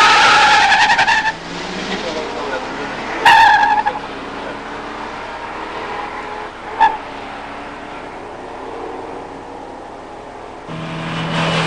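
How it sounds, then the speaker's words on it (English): Stock muscle cars drag race, a 1968 GTO with a 400 four-speed against a 1986 Mustang with a 302 automatic: engine roar with sharp tire squeal and revving that fades, then rises again, heard from nearby. "In the near lane, Randy Franks, 68 GTO, 400 4-speed"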